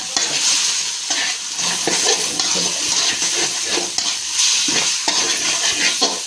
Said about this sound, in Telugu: అన్నీ ఒకసారి ఇలా కలుపుకోవాలి